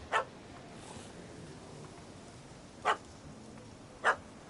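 Dog barks from a video game, three short sharp barks spaced apart over a low ambient game background, no talk.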